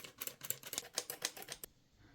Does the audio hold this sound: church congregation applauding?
no